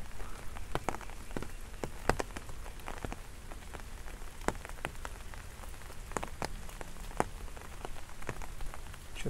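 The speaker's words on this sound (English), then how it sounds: "if it wasn't raining right now, I would have trekked this hill right away" Rain falls outdoors at a wild car-camping spot in India, a dense steady patter with many sharp drops striking nearby surfaces, continuous and even with no voices.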